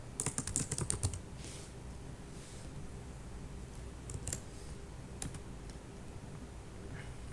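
Bursts of clicky computer keyboard typing during work in database design software, a rapid flurry at the start and then sparse isolated keystrokes over a quiet room hum; no one speaks.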